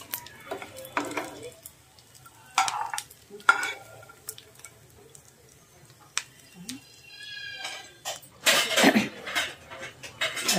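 Dry fruits such as almonds, cashews and raisins fry in a pan for ladoos, with intermittent stirring clatter and bursts of sizzling, fairly quiet and close, with scattered pauses between the noisy moments.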